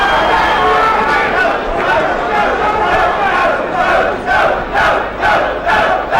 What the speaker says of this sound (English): The crowd calling to Botile. Go, go